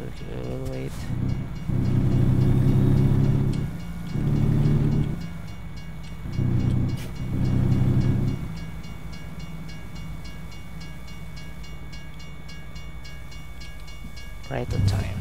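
A train passes in the American Truck Simulator video game near Price, Utah, its horn sounding in several long blasts over a steady rumble of rolling cars, and fading toward the end.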